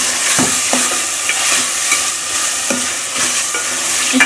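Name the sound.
vegetables being stirred and fried in masala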